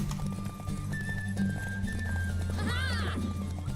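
A horse whinnies in the video game The Witcher III, with a rising, wavering call near the end, over a low steady drone and a voice talking.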